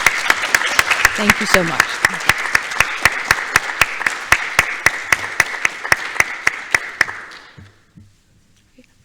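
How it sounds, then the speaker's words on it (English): A small audience claps for several seconds, the claps standing out individually in an uneven rhythm, while a voice speaks briefly over them; the applause thins out and stops near the end, leaving near silence. "So let's give Vana a round of applause."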